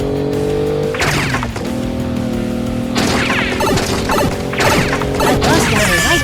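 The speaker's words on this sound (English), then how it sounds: "The next obstacle is glass wall crash." A toy LEGO car smashes into a hard wall made of sugar glass, giving loud crashing and shattering impacts around one, three and four-and-a-half seconds over a steady musical tone.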